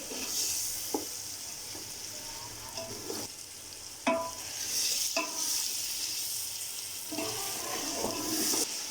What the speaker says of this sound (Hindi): हमने मटन को अच्छे से भून लिया है